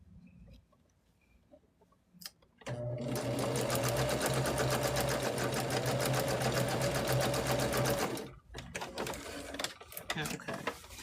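A sewing machine stitches through fabric in one loud, steady run of rapid mechanical whirring lasting several seconds, with quieter handling noises before and after.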